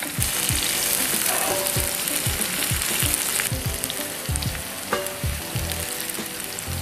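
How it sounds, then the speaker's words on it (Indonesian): Garlic and onion fry in a pan with a loud, steady sizzle. Rhythmic stirring scrapes repeat throughout, close by and with no talking. "kita tunggu bawang putih dan bawang bombaynya sampai agak layu dan bawang putihnya agak kecoklatan"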